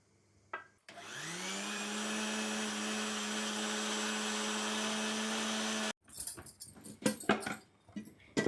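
An electric mixer grinder runs steadily for about five seconds, a loud sustained whine, grinding dried chili powder with salt; it stops abruptly and is followed by clattering and handling sounds.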